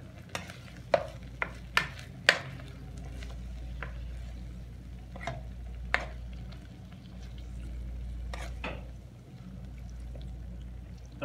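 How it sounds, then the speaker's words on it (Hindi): Mustard greens saag cooked in spices gets stirred in a pan, a series of sharp spoon clacks and scrapes over a low, soft sizzle and hum, fairly quiet and close. "अब इसको मसाले में खूब अच्छी तरह भूनेंगे।"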